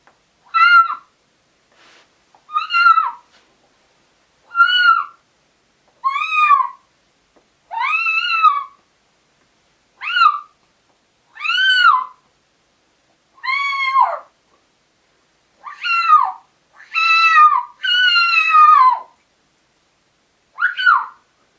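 A hand predator call imitates a kitten's distress with a series of high, wavering mewing cries, repeated about a dozen times with short pauses between them, loud and close.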